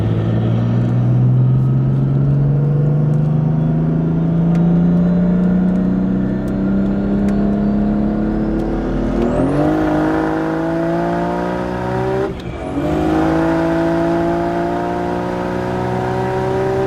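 A turbocharged BMW M3 making 700 horsepower accelerates hard from close by, its engine note climbing steadily through a long pull, then two quick gear shifts, each followed by a fresh rising roar.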